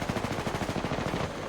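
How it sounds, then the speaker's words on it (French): Rapid automatic gunfire in the battle royale game Apex Legends, a fast even stream of close, loud shots running throughout with no speech. "J'ouvre le feu."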